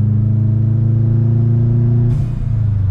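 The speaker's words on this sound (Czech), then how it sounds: "prostě pro mě je to tak ikonické v tom boxeru, ten zvuk, že prostě já to úplně miluju" A Subaru boxer engine burbles in a steady low rumble from inside the car while driving on a mild map, holding an even drone before shifting character near the end.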